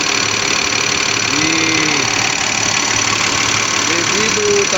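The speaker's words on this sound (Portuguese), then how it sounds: "Eu coloquei o caminhão para funcionar novamente. Agora tá tudo ok. Motorzinho redondinho." A repaired truck engine, fresh from a cracked cylinder liner replacement, idles steadily with a constant low rumble and vibration throughout, while a person talks briefly over it.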